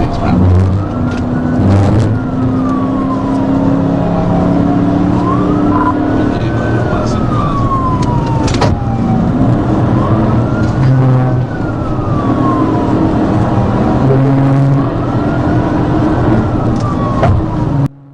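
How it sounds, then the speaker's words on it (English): A fleeing car speeds east on Interstate 30 during a police chase at close to 95 miles per hour, with wailing police sirens sweeping up and down continuously over loud road and engine noise and a voice talking over it. "the driver floored it, racing east onto Interstate 30 and reaching speeds close to 95 miles per hour"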